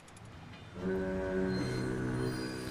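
A foghorn sounds in the Lego The Incredibles video game, a deep sustained horn blast that swells in and holds steady over a low background.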